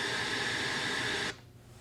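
A bright, buzzy synthesizer carrier tone for a vocoder on the Akai Force sustains evenly for over a second, then cuts off abruptly, leaving faint background hiss.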